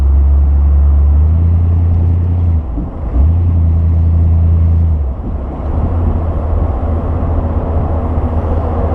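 A 1956 Ford Thunderbird engine rumbles loudly and close while driving around the block, with a deep steady drone, a brief dip around a shift, then a rougher cruising rumble.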